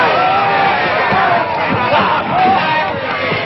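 A crowd yells and hollers in a dense, continuous roar around a fistfight in an old western film, loud and close with excited shouts rising above the din.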